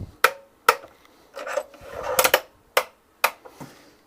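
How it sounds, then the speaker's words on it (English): A wooden board being clamped down on a PantoRouter: several sharp knocks and clicks of wood against the jig, with a short rasping slide in the middle, close and clear with no talk. "And we can clamp our board down."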